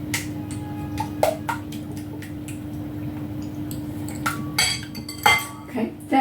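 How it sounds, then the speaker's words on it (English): Quiche lorraine egg filling whisked in a bowl, irregular clinks and ticks of a whisk against the bowl over a steady kitchen hum, with a voice faintly present. "And I'm just whisking until combined."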